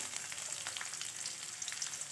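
Garlic cloves frying in an appe pan give a steady, fine crackling sizzle throughout, close and fairly quiet, with no voices.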